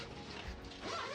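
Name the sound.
zipper closing on a small animal playpen enclosure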